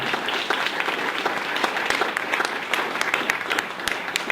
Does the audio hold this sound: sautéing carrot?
no